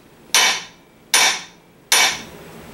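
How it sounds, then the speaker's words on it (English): A Trusty-Cook dead blow ball peen hammer with steel shot inside strikes three times at an even pace, each blow a sharp, loud impact that dies away quickly without bounce. "all that force is going into the point of this ball peen hammer end, and it's not bouncing around because there's that steel shot inside giving it that dead blow"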